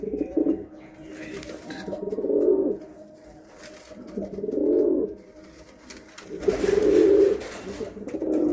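Pigeons from Uttar Pradesh coo in three distinct low, rolling bursts with brief quiet gaps between, close and fairly loud against faint background rustle.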